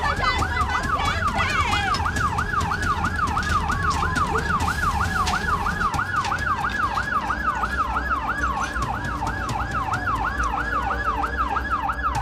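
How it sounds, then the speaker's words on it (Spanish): A loud wailing ambulance siren sweeps up and down rapidly and continuously, close by, over rumbling traffic noise. "¡Viene más ambulancia, pero rápido!"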